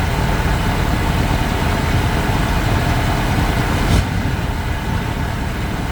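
A 1980s Bronco boat engine runs steadily close by, a loud continuous low rumble with one brief knock partway through before the drone carries on unchanged.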